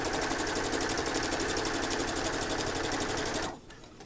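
A sewing machine stitching a decorative pillow runs steadily at high speed, a fast continuous stitching rattle, then stops abruptly near the end.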